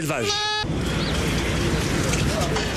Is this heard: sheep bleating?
yes